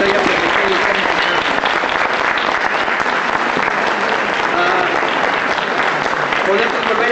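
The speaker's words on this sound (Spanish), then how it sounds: "agradezcámosle con un aplauso a la sección democrática del Magisterio de que nos haya permitido estar en casa" Loud, dense applause from a crowd in a union auditorium assembly, continuous and even for several seconds, with voices faintly mixed into the clapping.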